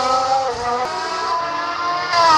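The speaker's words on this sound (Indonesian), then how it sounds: "Wow, ada mobil balap" An F1 race car engine gives a steady, tonal whine of layered pitches for about two seconds. It sits near and fairly loud and swells slightly at the end, with no talking.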